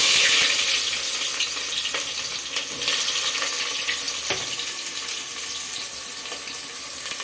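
Chopped onions dropped into hot cooking oil give off a loud, steady, close-up sizzle that hisses on without a break.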